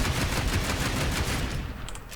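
Rapid automatic fire from the Buzlok rifle in the shooter game Warframe, aimed at an Eximus enemy's head; a dense, continuous burst of loud close shots that thins out toward the end.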